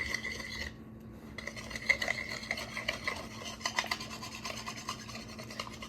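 Sourdough starter being stirred into dough in a bowl, a steady scraping and rubbing of a utensil against the bowl with irregular soft knocks, close and continuous.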